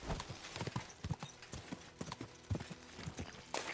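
Horse hoofbeats clip-clop at a steady running gait in Kingdom Come: Deliverance 2, a rhythmic series of fairly close thuds over faint background ambience.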